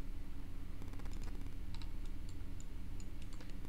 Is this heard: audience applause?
no